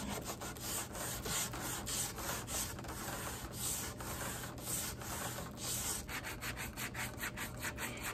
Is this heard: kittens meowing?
no